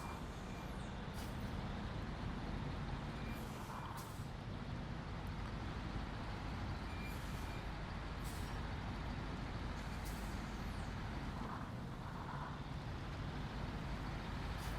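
Heavy truck driving in the video game SnowRunner, a constant loud engine drone with repeated hissing bursts like air brakes, no talking.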